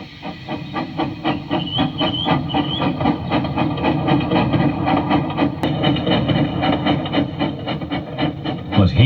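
Steam engine James pulling coaches, rhythmic chuffing beats in a steady rapid cadence with hissing steam and clattering wheels, loud and continuous, with a brief whistle-like tone early on.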